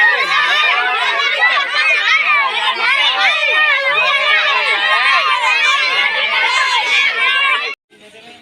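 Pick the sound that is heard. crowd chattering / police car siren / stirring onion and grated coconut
crowd chattering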